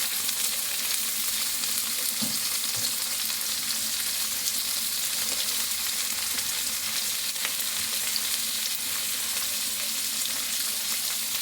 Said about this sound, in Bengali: এগুলোকে ভালো করে নেড়ে চেড়ে নিয়ে ফ্রাই করে নিচ্ছি।